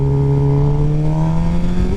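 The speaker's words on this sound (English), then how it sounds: "Pulling the clutch, blip the throttle, boom, just like that." A motorcycle engine held at a steady, strongly tonal pitch close by, rising slightly across the moment with a throttle blip during a rev-match downshift from third gear, with no talk over it.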